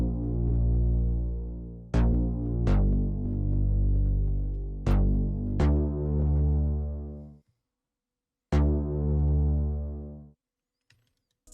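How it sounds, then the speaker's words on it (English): A deep synth bass preset called Bounce from the Bliss kit plays sustained low notes following guitar chord roots, several held tones with sharp attacks, loud and alone before a brief gap and a final note. "The last sound we added is this bass."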